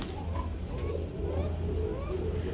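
A Shalik Kuka pigeon gives soft, low repeated coos close by, a thin-voiced call with faint background noise and no speech.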